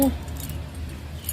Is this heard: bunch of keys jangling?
yes